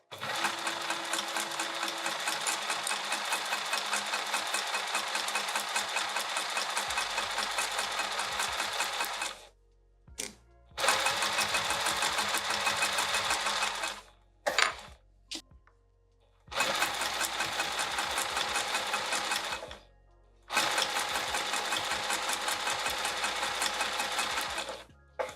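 Sewing machine stitching a fabric roll-up wrap in long continuous runs broken by short stops where the needle is lowered and the work pivoted, loud and near with no voices.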